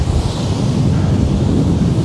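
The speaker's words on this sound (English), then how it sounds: "Some nice big waves." Big sea waves crash and roar along the rocky shore at Groudle Glen on the Isle of Man, a loud, continuous low rumble of surf mixed with heavy wind buffeting the microphone.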